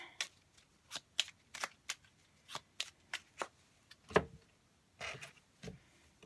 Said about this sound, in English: Might draw a couple of cards on that.